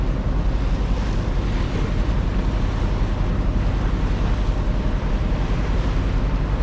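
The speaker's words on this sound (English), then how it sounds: "it was super windy and super choppy" Strong wind buffets the microphone while choppy sea waves churn and slap steadily and loudly, a dense continuous roar with no voices.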